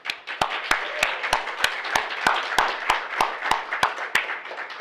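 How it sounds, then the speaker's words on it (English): A round of applause for a gardener at a Sunday gathering, steady regular clapping with sharp distinct claps over a softer crowd bed for about five seconds, no one speaking. "let's give Jennifer Flynn a round of applause for her wonderful work in our garden"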